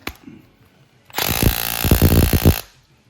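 A 12 mm bolt on the brakes of a Yamaha Warrior 350 ATV is cranked loose with a ratchet: a loud, close burst of rapid clicking and grinding lasting about a second and a half, with no talk.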